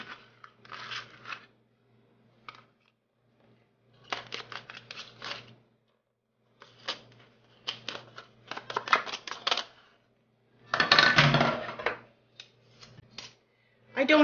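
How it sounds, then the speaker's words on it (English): Butter knives cut butter into a flour mixture for lemon-thyme shortbread cookies, making close, crisp bursts of scraping and clicking in quick clusters separated by short pauses. "So you just cut in the butter until mixture resembles fine crumbs and starts to cling."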